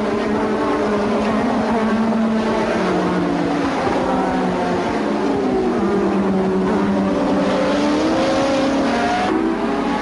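Formula 1 race cars scream past at the 1986 German Grand Prix, several high-pitched engines overlapping in sweeping, rising and falling whines, loud and continuous, with no talk audible.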